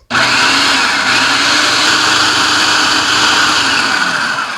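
A food processor whips cream into homemade butter, giving a loud, steady whirring motor drone that starts abruptly and holds without pause throughout, with no voices.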